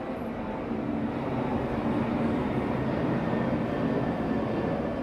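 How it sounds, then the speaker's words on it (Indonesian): An airplane passing overhead, a steady broadband roar that stays loud and even throughout with no talk. "ada pesawat lewat"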